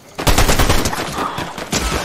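Dense bursts of automatic gunfire from Fortnite players shooting at a G-Class vehicle, with repeated loud volleys crackling over about two seconds, with no speech.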